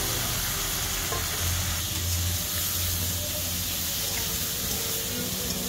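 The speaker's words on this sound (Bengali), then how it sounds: "করলা দিয়ে দিয়ে আমরা এখন ভালোভাবে ভাজবো।" Sliced bitter gourd goes into a pan after onions have fried, setting off a loud, continuous sizzle with the scrape of stirring throughout, close and unbroken.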